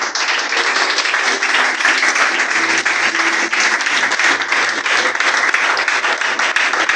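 A Sunday church congregation applauds loudly and continuously in a worship service, a dense, even wash of many hands clapping throughout with no pauses.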